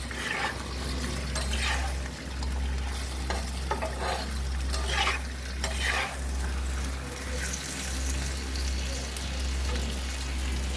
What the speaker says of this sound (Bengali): এবার এই যে কড়াইয়ে দেওয়ার পর, মাটির কড়াইয়ে দেওয়ার পর এখানে যে অল্প পরিমাণে জল বেরোচ্ছে